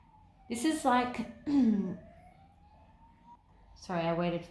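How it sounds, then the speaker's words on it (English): An ambulance siren passes in the background, a thin steady wailing tone sliding upward across the clip beneath intermittent speech. "I waited for the ambulance to go past."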